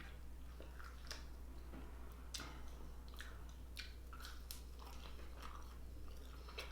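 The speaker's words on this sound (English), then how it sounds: "I want to see how this fry tastes in the gravy." KFC fries dipped in gravy are chewed close to the mic, giving soft, wet crunches and squishy bites in an irregular rhythm over a constant low hum.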